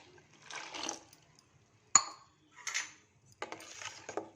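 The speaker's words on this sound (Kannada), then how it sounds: "ಇವಾಗ ಒಂದು ಲೋಟ ಹಾಲು ಹಾಕ್ತಾಯಿದ್ದೀನಿ." A glass of milk goes into a mixer jar in a home kitchen, heard as a few short, quiet pouring and splashing bursts separated by pauses, with one sharp clink of glass against the jar.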